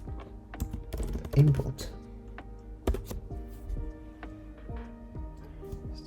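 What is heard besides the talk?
typing on a computer keyboard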